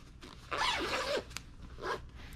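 A zipper on the mosquito net of a Snugpak Travelpak 4 sleeping bag is pulled around the face opening in two close, scratchy zipping strokes, a longer one followed by a short one, with no talking.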